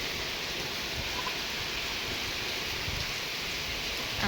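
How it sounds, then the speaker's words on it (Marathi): Steady monsoon rain pouring down in rural Maharashtra during the month of Ashadh, a continuous even hiss of falling drops and splatter on surfaces, moderately loud with no voices. "आता, पावसाळ्याचा दिवस आहे, आखाडाचा महिना आहे, त्याच्यामुळे ही पाऊस असाच राहणार आहे सारखं चालू"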